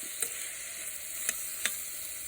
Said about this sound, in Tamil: இது கூட வதக்கி வச்ச முள்ளங்கியவும் சேர்த்துக்கணும். சேர்த்துட்டு நல்லா கிளறி விடணும்.